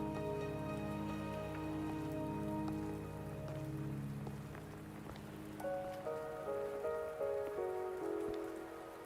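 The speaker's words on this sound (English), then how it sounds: "Are you trapped here by the rain?" Steady rain falls in the video game Wuthering Waves, a dense even patter over a tonal music bed that shifts partway through, with no voices over it.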